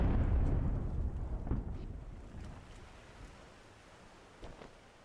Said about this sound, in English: Operate that cannon.